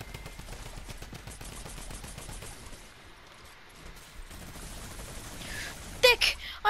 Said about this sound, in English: Just run into a gold zombie with the minigun.